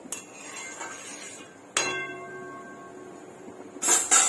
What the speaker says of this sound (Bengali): ভালোভাবে মিশিয়ে দিচ্ছি।